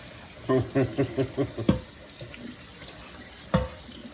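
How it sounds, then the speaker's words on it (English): Cold tap water runs steadily into a kitchen sink over a strainer of drained mushrooms, a constant close hiss with a few soft knocks and thumps. "You put the strain in the sink. Yeah. Run the cold water."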